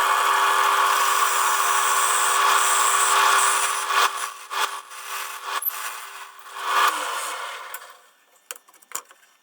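A loud, steady grinding drone of a drill press boring into wood for pen turning for several seconds, then it breaks up, spins down and clatters to a stop.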